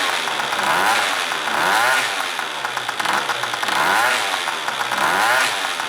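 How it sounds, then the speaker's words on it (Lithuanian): A Yamaha Aerox scooter engine runs nearby and is revved repeatedly, its buzzy two-stroke note rising and falling in several swells over a steady idle, with no talk. "dabar motoroleris va, puikiai užsiveda, puikiai revina ir gerai skamba"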